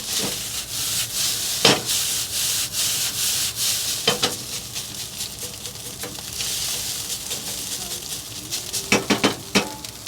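Cooked rice grains for a chashu fried rice being pressed and stir-fried in a pan over low heat, a continuous close scraping, rubbing texture broken by several sharp spatula taps at irregular intervals.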